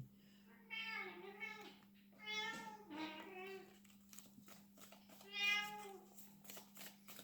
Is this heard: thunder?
no